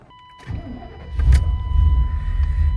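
A Chevy OBS dually pickup on semi-truck wheels rumbles as it starts and idles, a low steady engine note rising after a brief mechanical click, close and alone without talk.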